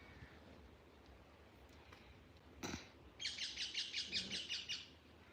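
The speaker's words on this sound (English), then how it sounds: "Can you hear the birds? They just making such a racket." Birds in a Jamaican garden chirping loudly, a rapid run of bright repeated calls close by after a quieter stretch with a single sharp knock.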